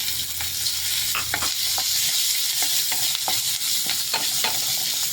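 Small shallots fry with urad dal in a hot pan, giving a loud continuous sizzle, with occasional scraping and tapping from a stirring utensil, close up and with no voices.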